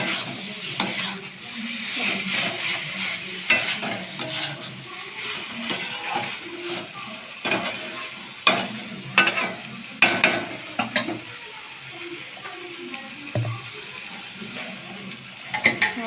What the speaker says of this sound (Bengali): এবার কষাচ্ছি